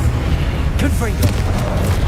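Confringo explosive spell blast in Hogwarts Legacy, a short booming burst with a sweeping magical whoosh, set amid dense in-game combat noise and background music.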